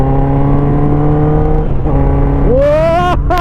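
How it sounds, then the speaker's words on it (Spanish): Honda CB650R motorcycle with an inline four-cylinder engine and full exhaust system, idling with a steady harmonic drone, then revved sharply near the end with a rising, howling pitch sweep and quick blips. "Oye, qué cómo suena esta moto. Este motor tetracilíndrico, 4 cilindros en línea,"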